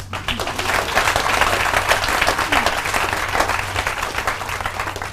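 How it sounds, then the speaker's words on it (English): Hands clapping from an audience at a business presentation, a steady dense patter of applause sustained throughout, fairly loud and close, with no voices over it. "You can clap your hands."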